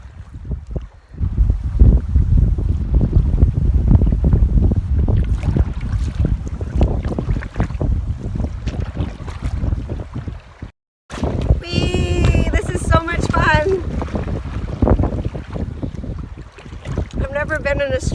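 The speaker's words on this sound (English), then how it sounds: "Never been in a strong wind and like had it coming from behind me" Strong wind buffets the microphone while canoeing on a lake in the Temagami wilderness, a heavy low roar that gusts almost continuously, briefly cuts out, then returns with fainter tonal sounds mixed in.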